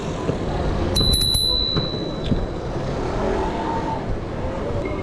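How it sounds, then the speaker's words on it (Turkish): Bright repeated rings of a bell on a Btwin folding bicycle, several quick strikes close by over steady street traffic noise. "Şu zil inanılmaz bir şey ya."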